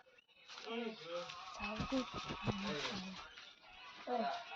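Soft clucking and squawks from a group of chickens, quiet and a little distant, mixed with brief vocal sounds.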